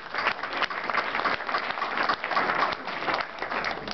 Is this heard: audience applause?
yes